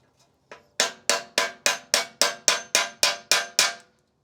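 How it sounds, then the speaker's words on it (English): A hammer drives a bearing seal into place during a Land Cruiser dual swing-out bumper upgrade, giving eleven sharp metallic strikes in an even, steady rhythm, close and clear after two light taps. "you might want to drive it in with a sealer, bearing seal pusher."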